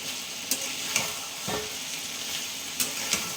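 Mustard seeds, cumin and dried red chilies sizzle in hot tempering oil for an Andhra-style eggplant dish. A close, steady hiss runs throughout with a few sharp pops and stirring clicks, and no voices.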